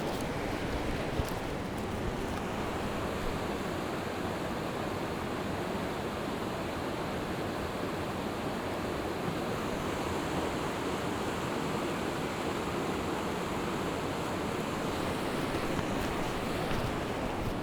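Loud, steady roar of river rapids rushing over rocks in Tumwater Canyon, a continuous broadband wash of whitewater heard close and alone with no talking.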